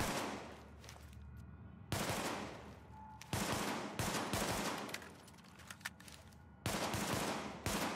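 Damascus high-end pistol firing in The Division, sharp gunshot bursts arriving in several separate volleys with gaps between, loud and close.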